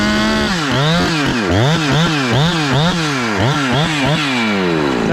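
A Husqvarna 372XP big bore chainsaw rips through rotten wood, the engine loud and close, its pitch rising and dipping in repeated surges as the chain bogs and frees in the cut.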